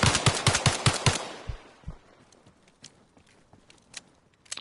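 Rapid burst of about seven loud pistol gunshots in Arma Reforger, fired in quick succession, then a couple of single shots and faint scattered battlefield noise trailing off.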